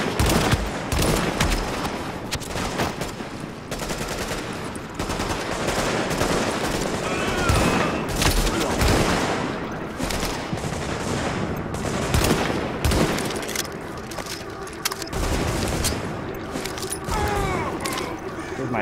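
An AK rifle fires in a video game, with rapid, loud automatic bursts repeating almost continuously for close to twenty seconds, the shots coming fast and dense and stopping only briefly between bursts.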